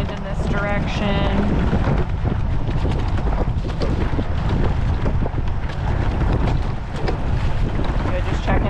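Strong wind roars over the microphone aboard a mixed masters rowing eight out on open water, a loud continuous buffeting rush with water sounds beneath and a brief voice near the start.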